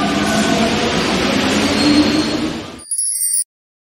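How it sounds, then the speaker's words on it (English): Metro train passing with a dense, steady rolling roar and a brief metallic squeal in the middle, ending abruptly before a short high electronic chime. "Metro."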